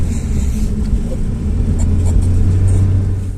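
A Citroën car drives at a steady 50 km/h over a concrete slab road, a deep continuous rumble of engine and road noise with faint, irregular bumps from the slab joints.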